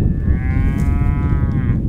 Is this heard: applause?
no